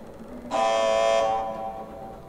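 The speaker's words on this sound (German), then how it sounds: "Ich werde mal den Alarm auslösen." An alarm goes off in the adventure game Secret Files 2, a loud, steady buzzing horn tone that blares for under a second and then fades away, with no talk over it.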